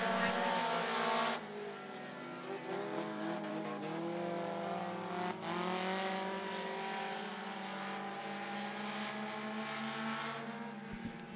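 Front-wheel drive race cars in a heat race at I-75 Raceway, their engines droning loudly and continuously with rising and falling revs as the pack circles the track, under a race announcer's commentary.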